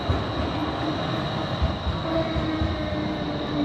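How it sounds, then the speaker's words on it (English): A modern tram rumbles past on a busy downtown street in Sarajevo, Bosnia and Herzegovina, a steady loud rolling drone with faint wheel squeal, heard close and without talk. "Modern tram there."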